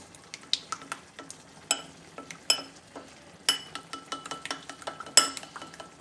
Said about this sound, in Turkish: Bunu güzelce çırpacağız şimdi.